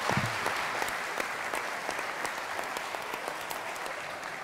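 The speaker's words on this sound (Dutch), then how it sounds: "Geef een groot applaus." Big audience applause at a live Dutch talkshow, a dense steady wash of clapping that holds at an even level from start to finish.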